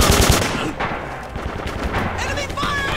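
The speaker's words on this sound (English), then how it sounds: "Enemy fire!" Heavy enemy machine-gun and rifle fire in the Red Orchestra 2 WWII shooter, loud rapid bursts and cracks throughout, with shouting voices mixed in.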